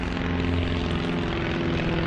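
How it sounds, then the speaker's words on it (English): A propeller airplane drones steadily overhead near an airport beside an abandoned canal, a loud continuous engine hum with no talk. "so we got airplanes flying over"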